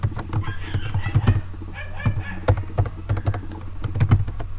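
Rapid typing of C++ code on a computer keyboard: dense, uneven streams of close, loud key clicks and thumps, continuous throughout with brief pauses, no talk over it.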